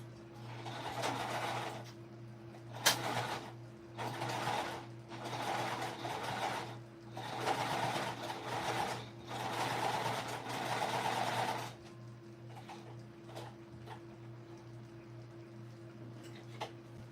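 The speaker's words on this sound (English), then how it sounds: "I'm just gonna top stitch this around all three sides, making sure I'm really back stitching at the beginning and the end" A sewing machine top stitches around the sides of a shoulder bag in several bursts of a few seconds each, separated by brief pauses, over a steady background hum.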